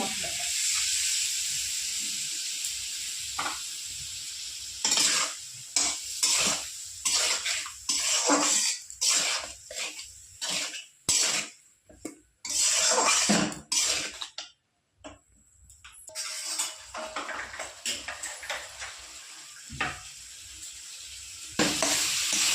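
Steady hiss of eggplant frying in a pan, interrupted by repeated scraping and clinking of a utensil stirring, close by.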